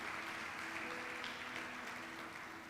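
Church congregation applauding during a sermon, a steady wash of clapping that is fairly faint and distant, with a faint tonal hum underneath.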